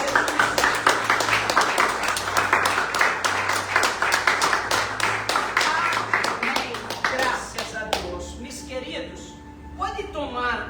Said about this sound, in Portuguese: Dê aplausos para Jesus